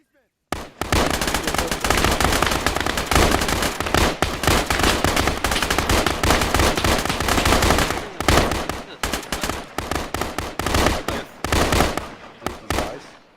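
Rapid, loud, close gunfire fills a counter-ambush squad training drill. Bursts and single shots run almost without pause for over ten seconds, with brief gaps between volleys, and a few voices are heard under the shooting.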